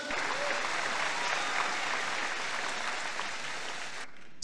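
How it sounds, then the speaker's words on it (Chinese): An audience at a Taiwanese business seminar breaks into loud, sustained clapping that fills almost the whole stretch before stopping abruptly near the end. "所以给我们自己身为爱多美的老板一个掌声"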